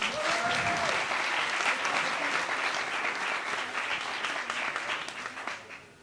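Applause from a gathered crowd at a Grand Raid race press conference, a steady dense clapping that holds for several seconds and then tapers off near the end.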